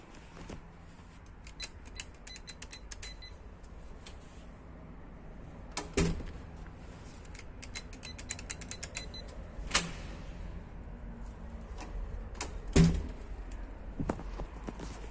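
A door creaks at an apartment block entrance in Tarnów, in a stairwell, with repeated creaks, sharp clicks and metallic clunks spread across a quiet, steady background.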